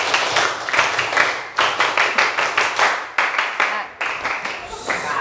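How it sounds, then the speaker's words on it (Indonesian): A classroom group claps out the Indonesian scout clap in rhythmic patterned bursts, sharp hand claps grouped in beats with short pauses between phrases, close and lively, with voices chanting along. "Tepuk pramuka."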